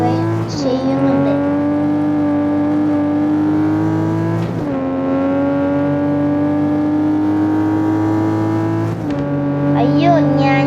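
Super car engine in a racing video game, a sustained droning tone with gear-shift dips near the start, middle and end, steady and loud throughout.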